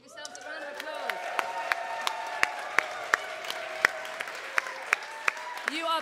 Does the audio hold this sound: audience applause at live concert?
yes